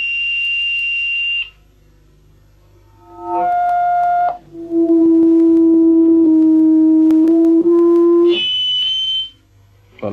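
Loud electronic feedback tones from a loudspeaker loop filtered to single pitches, held as pure steady notes that jump between high and low pitches with brief gaps, alone without talk.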